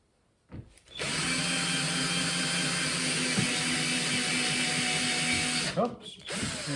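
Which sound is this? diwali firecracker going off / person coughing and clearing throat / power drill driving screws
power drill driving screws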